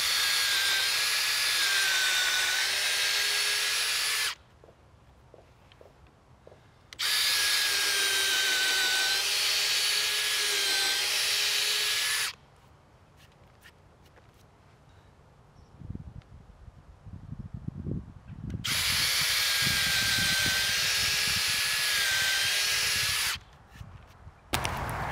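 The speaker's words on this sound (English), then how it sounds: "they say you don't have to pre-drill, but I like to just in case" A power drill pre-drills 4x4 pressure-treated lumber in three sustained bursts of several seconds each, steady and loud, with quieter gaps and some clattering handling noise between them.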